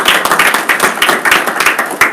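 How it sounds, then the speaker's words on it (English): Audience members at a community association board meeting clap in a brisk, uneven burst of individual claps, close and fairly loud, with no talking. "Let us give you a round of applause."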